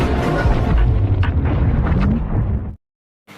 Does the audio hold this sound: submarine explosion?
yes